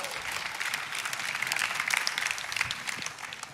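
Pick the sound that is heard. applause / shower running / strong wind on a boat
applause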